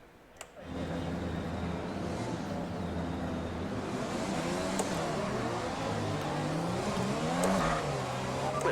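An F1 race car engine in the F1 2020 game drones at a practice start on the Azerbaijan or Canadian Grand Prix track, a steady loud hum with rising and falling revs through the clip and no talk.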